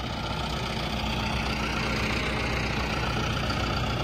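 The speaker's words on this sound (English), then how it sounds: "John Deere 5100M." John Deere 5100M tractor engine idling on a hay farm, a loud, steady, close low rumble running unbroken throughout.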